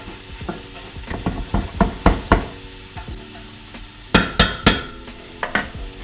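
A large load of carrots tossed into a hot pan and stirred for an ox cheek lasagne, sizzling under a series of sharp, irregular clanks and scrapes of a utensil against the pan.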